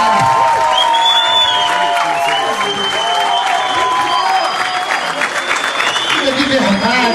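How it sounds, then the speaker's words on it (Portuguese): Studio audience at a Brazilian morning show bursts into sustained applause with cheers and whoops for Jair Bolsonaro, steady clapping filling the whole stretch, with voices talking over it. "Uma salva de palmas, nosso Jair Bolsonaro"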